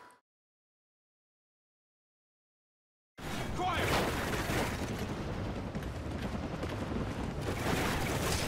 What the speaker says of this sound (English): I get hit by another grenade